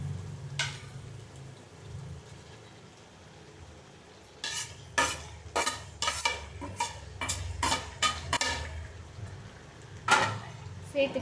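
Tomato, mint and coriander being stirred into chicken biryani in a pot, a run of sharp spoon scrapes and clinks over a low sizzle, close and rhythmic, after a quieter stretch.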